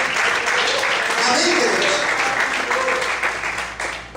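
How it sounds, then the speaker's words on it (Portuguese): Church congregation applauding at a Sunday morning worship service, a dense steady wash of clapping that holds through the clip, with a preacher's voice speaking over it. "Você pode aplaudir ao Senhor?"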